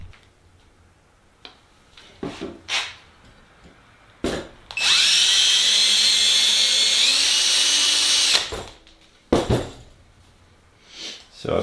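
Power drill boring a hole through a lead aileron counterweight for a Sonex aircraft build, a steady loud whine of about four seconds between scattered handling clicks and knocks.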